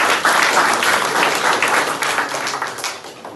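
A school hall audience at a foundation event breaks into dense, loud applause that fills the room, then tapers slightly toward the end.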